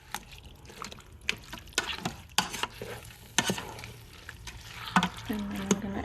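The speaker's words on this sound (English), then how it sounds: "And now I'm gonna add the tomatoes. Mix that in there." Chili beans being stirred in a pot as tomatoes are added, with a wet, squelching scrape and soft clunks of the spoon repeating irregularly, fairly close and moderately loud, with no talking.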